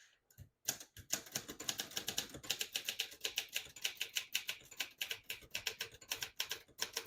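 Brisk typing on a 1966 Hermes 3000 vintage portable typewriter: a steady run of crisp, close key clacks with short pauses, quiet and without speech.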